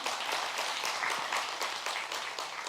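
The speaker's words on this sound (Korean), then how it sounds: "이분들이 박수도 한번 주시고." Steady applause from a crowd, a dense wash of clapping hands that holds at an even level for a few seconds without voices.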